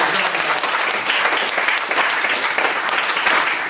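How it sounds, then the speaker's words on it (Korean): A church congregation at an evening service gives sustained, dense applause of many hands clapping, loud and even throughout with no pause. "우리 박수로 격려 한번 해주시죠."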